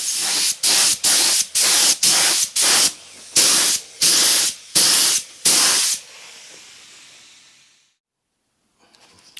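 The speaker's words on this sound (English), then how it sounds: "A few more coats of lacquer now, and then let it dry off" Aerosol lacquer sprayed onto a Jaguar-style guitar body, about ten loud, close hissing bursts in a quick even rhythm, then the spray fades into silence.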